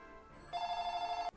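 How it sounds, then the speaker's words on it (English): A telephone rings in a Fire Emblem: Awakening play session: one sustained electronic bell tone starts abruptly after a quieter lead-in, holds steady for under a second and cuts off sharply, with no talking over it. "Not a good time for the phone to ring."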